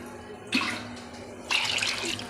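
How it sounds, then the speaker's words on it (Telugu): Water is poured into a pressure cooker for chicken biryani in two short, close splashing bursts, separated by a brief quiet pause. "ఒక చెమ్ముడికి 2 చెమ్ములు వాటర్ పోసుకుని"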